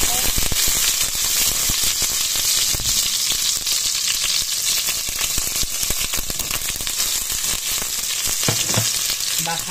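Beef fries in hot oil in a cast iron pot, giving a loud, dense sizzle with crackling pops and occasional stirring throughout; a voice talks briefly.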